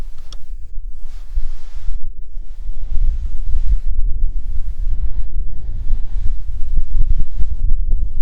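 Wind gusts across the cold Tibetan plateau in Changtang at –20 °C, a loud low rumbling buffet that swells and eases in surges throughout.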